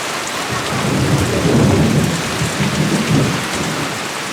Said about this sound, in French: Sampella vit au rythme des tempêtes et des orages, aussi soudains que violents.